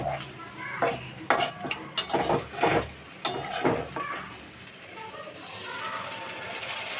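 A spoon stirs egg biryani with biryani masala and potatoes in a metal pan, producing irregular clanks, scrapes and knocks at close range, busier at first and then settling into a quieter, steady background.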